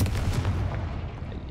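Confringo explosive spell going off in the Hogwarts Legacy video game, a single deep booming blast that rumbles and fades over about a second and a half.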